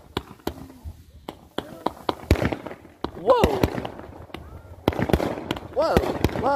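Fireworks exploding outdoors in a series of sharp, separate bangs and crackles, some followed by whistling or fizzing tails, irregular and moderately close, with people's voices between the blasts.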